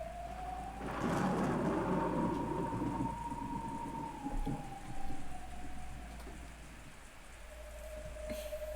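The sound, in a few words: thunder and rain sound effect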